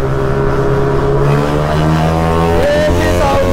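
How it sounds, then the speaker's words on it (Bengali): A mini superbike engine revs hard and loud close by in a sustained, steady roar, its pitch rising slightly toward the end. "সুপার বাইকের সাউন্ড শুনলে ক্রেজি ক্রেজি সাউন্ড"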